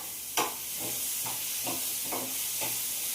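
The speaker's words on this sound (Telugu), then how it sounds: "అలాగే టమోటాలు కూడా వేసేస్తున్నాను పొటాలు కొంచెం మెత్తబడేంత వరకు ఉడికించుకొని" Tomatoes cook in a pan for a Rayalaseema-style kushka, with a steady close sizzle and hiss and about six evenly spaced stirring scrapes.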